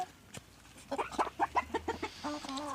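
Old hens cluck in a quick series of short, close calls, followed by a few longer drawn-out notes, over a quiet farmyard background.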